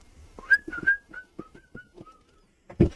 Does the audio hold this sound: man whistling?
yes